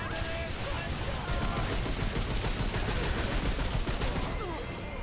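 Turret gunfire in the video game Remnant II, a dense unbroken burst of rapid shots filling the whole stretch, loud and close, with voices under the barrage.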